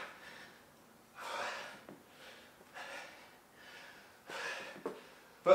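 Heavy, gasping breaths from someone recovering during a home workout, several separate exhalations with short gaps between them, fairly close and alone.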